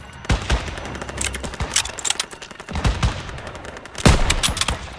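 Video game gunfire in Call of Duty WWII: clusters of sharp, loud shots and short automatic bursts crack out at uneven intervals over a low battlefield rumble, with no talking.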